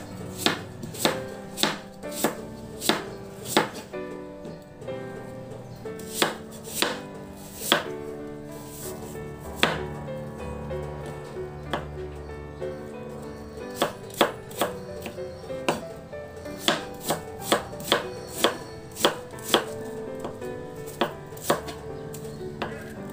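A knife chops cucumber on a cutting board in steady runs of crisp, close taps with short pauses between them, and nobody speaks.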